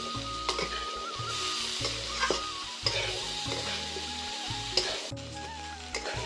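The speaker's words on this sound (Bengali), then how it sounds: "এবার আমি এর উপরে নুন দেব পরিমাণ মতো, দিয়ে এটা একটু কষাবো।" Chana masala sizzling and frying in a pan after salt is added, with a steady hiss and repeated scraping stirs of a spatula against the pan.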